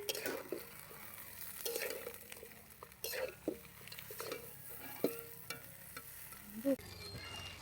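A spatula stirs and breaks up fried fish heads in a pan for a fish-head rice dish, making scraping knocks and clinks over a soft sizzle. The strokes come at irregular intervals and sound fairly quiet.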